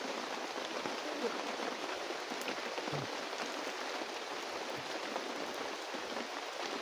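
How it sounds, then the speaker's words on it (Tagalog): Heavy rain pouring steadily outdoors, a dense even hiss of drops hitting surfaces throughout, constant and fairly close with a few louder splatters. "sobrang lakas ng ulan"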